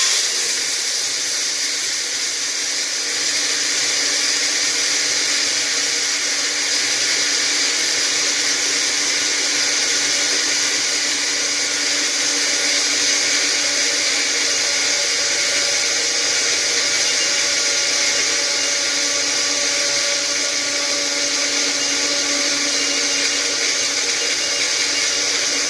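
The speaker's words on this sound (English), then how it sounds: "I'll be using this one for grinding, dry grinding. So I'll go ahead and I screw it on, and I put it in my grinder." An electric spice grinder dry grinds onion and garlic, producing a steady, bright whirring hiss that runs unbroken for the whole stretch, close up and fairly loud with no speech.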